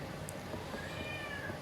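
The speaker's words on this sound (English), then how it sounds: "There's my kitty cat." A cat meows once in a drawn-out, rising and falling call, fairly faint and set against a hissy indoor background, with no talking.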